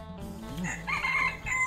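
A rooster crows once nearby in a clear, rising and then drawn-out call, with faint background noise around it.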